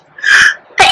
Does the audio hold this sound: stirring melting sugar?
no